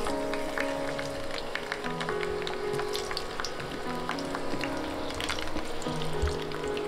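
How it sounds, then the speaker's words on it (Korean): Shishito peppers stir-fry in oil in a pan, giving a steady close sizzle with scattered crackles and pops throughout, no voices over it. "팬에 기름을 두르고 꽈리고추를 볶아준다"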